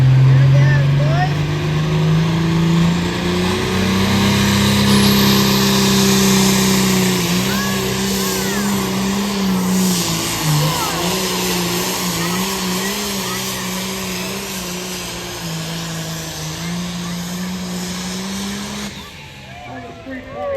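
Loud pulling tractor at a tractor pull, its engine droning and spooling up in steady pitch bands before launching down the track, continuous and close throughout with an announcer talking over it.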